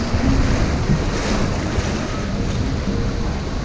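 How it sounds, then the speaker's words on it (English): Wave machine on a water ride at Avonturenpark Hellendoorn churns out a steady, loud roar of surging surf and rushing water, continuous and close, with wind buffeting the microphone throughout. "Here comes the wave machine."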